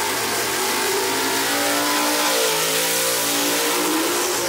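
A/Gas gasser drag racing car at Kil-Kare Dragway, engine roaring loudly and continuously at full throttle down the track with a rising, sweeping pitch, alone without talk.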